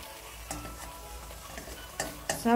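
Eggs fry in a pan with a soft, steady sizzle, broken by a few clinks and scrapes of a utensil against the pan's side.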